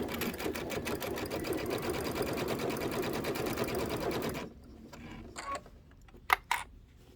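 A sewing machine stitches in the ditch through a thick quilted table topper. A fast, even mechanical run of needle strokes lasts several seconds, then stops and is followed by a few sharp clicks and handling knocks.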